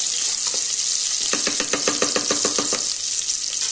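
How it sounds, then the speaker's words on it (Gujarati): Veg Hakka noodles with vegetables and green chillies sizzle in a hot pan. Midway, a quick burst of a dozen rhythmic scraping tosses rises over the steady frying hiss, with no voices. "આપણે ધીકું ખાવું હોય એ પ્રમાણે લીલા મરચા નાખવાના અને આને આ રીતે ઉછાળવાના."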